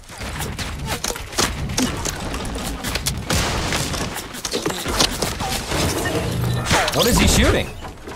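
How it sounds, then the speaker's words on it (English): Fortnite gunfire comes in dense, loud, rapid bursts of shots and impacts, close up and continuous, with scattered booms and crashes layered underneath. "What is he shooting? And why is every shot perfectly accurate?"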